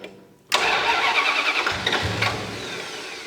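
A turbocharged V8 police car with an aging ignition box cranks and suddenly catches with a loud, rough roar. It runs unevenly for a few seconds, sputtering and fading as if about to die, heard close up with no talk.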